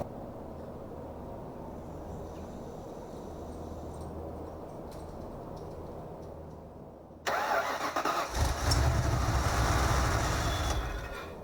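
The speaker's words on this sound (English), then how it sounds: "I'm going to crank it over and check to see if we got any flow" A 1982 Ford Capri RS engine cranks over for several seconds, then catches and roars loudly at close range for a short burst before easing back.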